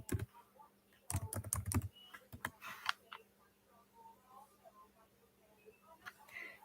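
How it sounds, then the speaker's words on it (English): Close, quiet keystrokes on a computer keyboard, a fast burst of clattering typing followed by scattered single taps and softer clicks in a quiet room. "I'm typing it up right now for you."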